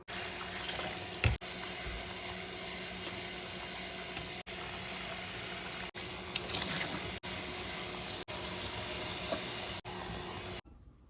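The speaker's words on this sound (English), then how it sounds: "I'm gonna do some dishes" Tap water runs steadily into a kitchen sink while dishes are washed, a continuous close splashing hiss broken by several brief pauses where the flow stops, with occasional clinks and knocks of dishware.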